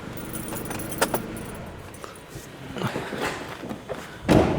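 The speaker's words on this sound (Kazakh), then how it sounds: "Көлікті сөндіреміз." Keys jangle close by as a Dodge Avenger car is switched off, with a few metallic clinks and thumps around the ignition and a soft engine rumble fading, ending in a louder rustle.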